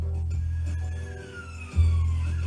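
A siren wails with a slow falling pitch over a low, steady rumble, joined by a heavier low boom near the end.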